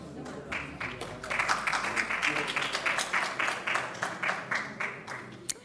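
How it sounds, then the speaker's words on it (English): A symposium audience gives a steady round of applause for a guest on stage, the clapping fairly distant and even before tapering off near the end. "We'd love you to stay for a round of applause."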